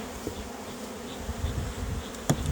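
Steady buzzing of honeybees close by during a spring hive check with a smoker, a continuous droning hum with a brief sharp knock near the end.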